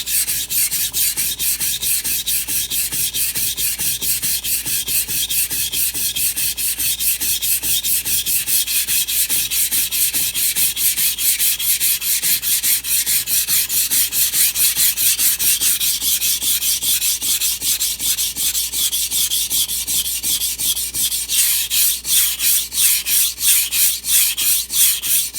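A knife is sharpened on a Naniwa whetstone fitted with an angle guide: a long series of rapid, regular back-and-forth scraping strokes, close and loud, growing slightly harsher toward the end, with no talking.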